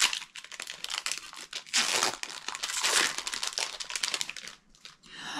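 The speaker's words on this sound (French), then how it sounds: "vas-y, ouvre le premier paquet" Foil wrapper of a Disney Lorcana card booster pack being torn and crumpled open up close, a sustained crinkling rustle with louder bursts of tearing partway through, alone without talk.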